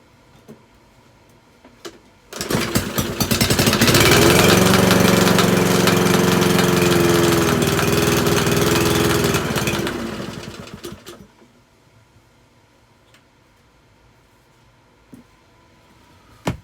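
A free secondhand lawnmower engine starts up with a loud steady roar that holds for about eight seconds, then dies away, leaving near silence with a few faint knocks and no talk.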